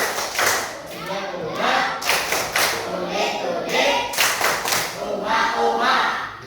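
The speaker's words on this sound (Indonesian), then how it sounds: "Tepuk sambal, dengarkan dulu ya." Children and a teacher perform the tepuk sambal rhythmic hand-clapping game in a classroom, with sharp claps in bursts and patterned beats mixed with voices chanting and speaking throughout.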